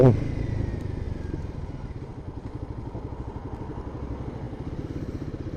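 A Royal Enfield Himalayan 450 adventure motorcycle runs as it is ridden, its engine a close, loud, rhythmic thumping that stays steady after a brief opening burst.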